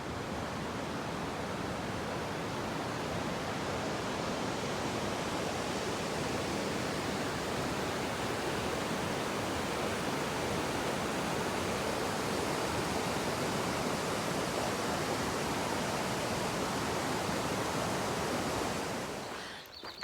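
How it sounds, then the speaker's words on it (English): A stream flows under a bridge on the Pacific Crest Trail, a loud, constant broadband rush of water heard up close, which fades slightly at the very end. "I walked under the bridge so I could show you the water"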